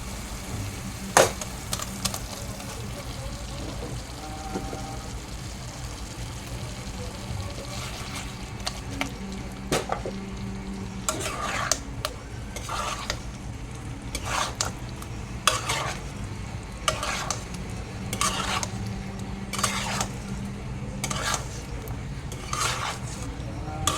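Balls of food frying in a pan while a spoon stirs them, with repeated sharp scrapes and clinks against the pan over a low, steady sizzle, close and moderate in level, quickening toward the end.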